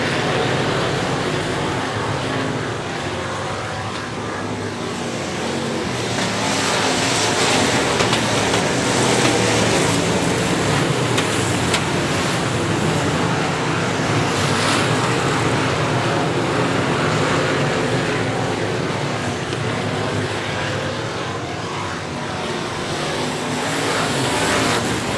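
Race cars roar around Heart O Texas Speedway, a loud, continuous engine drone that swells and fades as the pack passes, with no clear talking over it.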